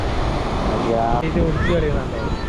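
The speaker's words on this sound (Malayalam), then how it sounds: "ഇതടിക്കുന്നില്ലേ തിരമാലടിക്കുന്നില്ലേ" Sea waves wash in on Vypin beach in Kochi as a steady roar of broadband surf mixed with wind, with faint voices of people on the shore underneath.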